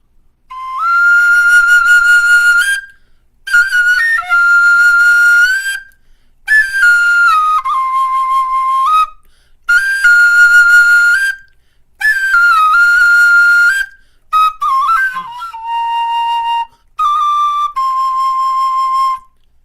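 A bright, piercing whistle blown in repeated long, wavering bursts imitating a bird call, loud and close, with short gaps between phrases.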